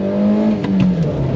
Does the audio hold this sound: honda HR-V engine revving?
yes